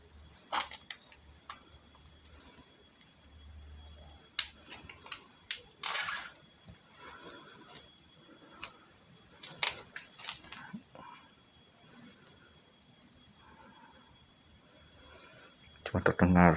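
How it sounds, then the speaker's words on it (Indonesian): Steady high-pitched cricket chirping fills the background, with scattered rustles and faint clicks throughout, growing louder near the end. "Cuma terdengar jangkrik."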